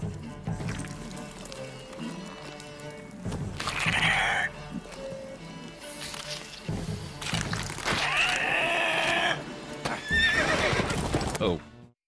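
Roach, the horse in The Witcher 3 video game, neighs loudly several times amid clip-clopping hooves and game effects, with someone talking over parts of it.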